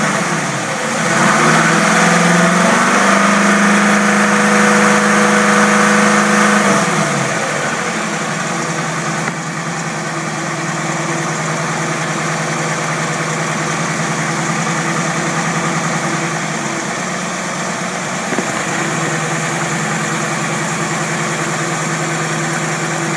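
An engine fitted with three single barrel Rochester carburetors on a 3-in-1 manifold idles steadily at 800 RPM, a loud close drone with a deep, even rumble that runs for the whole stretch with no talk.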